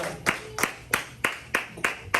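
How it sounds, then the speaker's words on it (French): Light, soft clapping in a church service, slow and even, about seven claps spaced evenly apart, with a faint murmur of voices underneath. "On dit applaudissements faibles"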